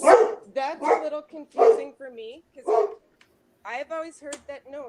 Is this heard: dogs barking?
yes